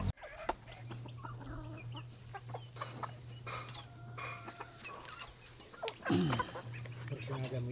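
Roosters kept as fighting cocks cluck and call close by against a steady low hum and outdoor background noise, with a sharper crowing burst near the end and faint voices in the surroundings.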